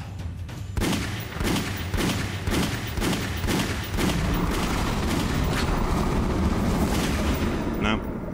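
Repeated gunshots in Resident Evil: The Umbrella Chronicles, a steady series of sharp blasts about every half second over a dense, noisy background.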